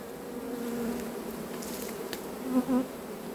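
A recovered honeybee swarm at Varennes-sur-Seine buzzes in a dense, even drone, with a few individual bees flying close past and briefly louder near the end.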